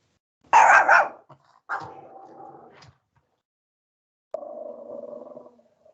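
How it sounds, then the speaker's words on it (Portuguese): A pet dog barks indoors during an online lesson, giving a loud sharp bark followed by two longer, lower growling barks separated by short pauses, with no speech over them. "Meu cachorro quer participar agora da aula."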